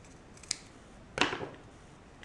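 A piece trimmed during a wing tip build gives two quick close snips a moment apart, the second louder and slightly longer, over a quiet background.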